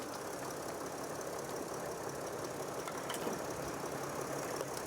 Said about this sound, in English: As you can hear, the engine is running, leave it running.